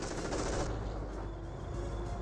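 A .30 cal machine gun lays down suppressing fire in Company of Heroes, a dense, continuous rattle of rapid shots over battlefield noise, steady and moderately loud without pause.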